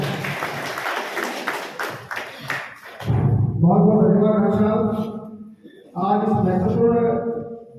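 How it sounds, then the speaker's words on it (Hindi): Audience applause welcoming a guest at a private medical practitioners' meeting in India: a few seconds of crisp clapping that fades out, followed by someone speaking loudly into a microphone. "हरिप्रकाश जी शर्मा जी का जोरदार तालियों के साथ स्वागत है।"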